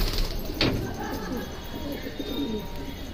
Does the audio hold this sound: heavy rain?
no